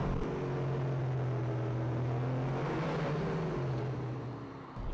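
A Gumpert Apollo on a racing circuit gives off a steady engine drone with a low tonal hum that shifts slightly in pitch, heard from inside and fading a little toward the end.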